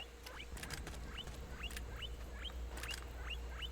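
Small repeated squeaks from a guinea pig in Metal Gear Solid 4, about eight short chirps in a steady rhythm over a low constant game hum.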